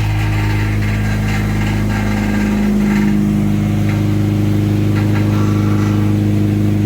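A 1996 Honda CR-V engine with its exhaust rusted off at the back runs loud and close, a steady rough drone with a slight swell in revs partway through.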